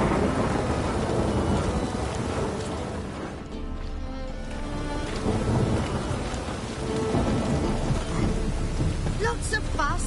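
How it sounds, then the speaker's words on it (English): Heavy rain pours steadily in a thunderstorm in The Witcher 3: Wild Hunt, Hearts of Stone, with deep rolling thunder swelling loud, easing briefly midway, then returning close and full, a faint voice barely present. "Lots of fuss over lots of rain."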